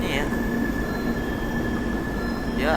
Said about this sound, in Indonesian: Ya ada kerekam suara kereta-kereta gitu lah ya kayaknya.